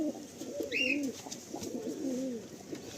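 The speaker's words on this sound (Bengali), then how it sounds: "দাদা দেখছেন এই যে চারিদিকে সব পায়রা রয়েছে" Malwai pigeons coo around a loft in Howrah, soft rolling coos repeating in two or three phrases with a brief higher call between them, fairly close and quiet.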